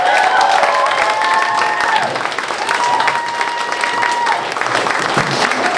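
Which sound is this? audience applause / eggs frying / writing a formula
audience applause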